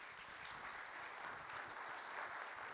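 Audience applauding at the e-py 2017 awards ceremony, a steady dense patter of many hands clapping throughout, fairly even in level and moderately distant.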